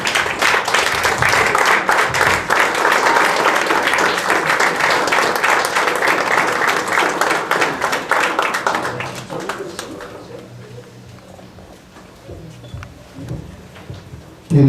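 Audience applause after a university lecture on Mexican municipal law, sustained dense clapping filling the room for about ten seconds before thinning out and fading to scattered claps.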